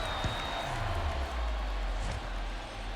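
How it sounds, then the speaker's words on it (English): Stadium crowd noise from MLB The Show 23 during an NLCS playoff game, Padres at Braves in Atlanta: a steady, dense roar of cheering fans filling the whole stretch, with no talk over it. "The crowd is electric"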